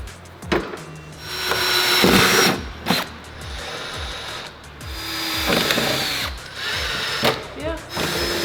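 Power drill boring holes through body panels to fit a widebody kit on a Mercedes 190E, repeated short whirring bursts with pauses and clunks between, loud and close.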